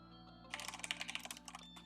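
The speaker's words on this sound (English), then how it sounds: "I'm typing it to my opponent just to tilt them" Rapid typing on a computer keyboard during an online Magic: The Gathering Modern match, a quick burst of close, light key clicks after a short quiet moment.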